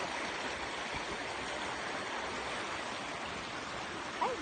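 A river in Pampanga rushes in a steady, broadband wash of flowing water, close and constant throughout with no talk.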